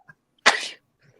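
A single sharp sneeze bursts out close and loud, preceded by a tiny faint click and followed by near silence.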